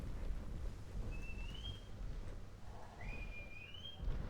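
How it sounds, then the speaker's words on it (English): Whistle command to dinosaurs in the video game Jurassic World Evolution 2, two thin rising-then-level whistles, one short and one longer, over a steady low rumble of wind-like ambience. "We're going to push R1 to whistle to them."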